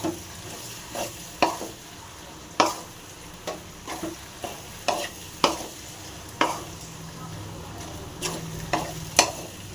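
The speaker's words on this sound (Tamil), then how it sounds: "எல்லாத்தையும் சேர்த்துட்டு நல்லா கலந்து விட்டுருங்க." Lemon pickle ingredients being stirred and mixed in a vessel, a string of sharp spoon scrapes and clinks at irregular intervals over a quiet background.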